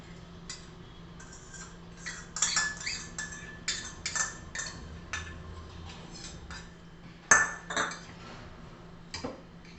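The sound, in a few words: adding yogurt to a bowl with a spoon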